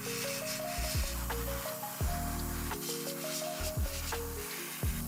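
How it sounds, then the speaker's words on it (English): An airbrush sprays black paint over a clay whale shark diorama model, a soft continuous hiss with faint rubbing noises, partly under steady background music. "it was time to get out the airbrush"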